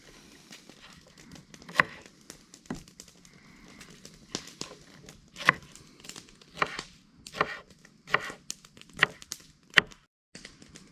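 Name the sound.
chopping jalapeno peppers on a cutting board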